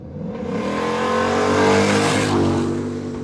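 A re-engineered 1977 Ford F-150 short-bed Dentside pickup revs hard, its engine note climbing and swelling to a loud peak before easing slightly, heard up close and continuous with no voices.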